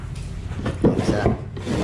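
A wooden drawer in a small built-in closet shelf unit slides open and shut with short close scraping rubs, in a quiet room.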